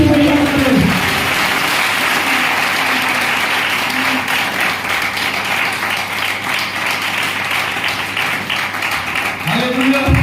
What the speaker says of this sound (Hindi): उसको जोरदार ताली बजाते हैं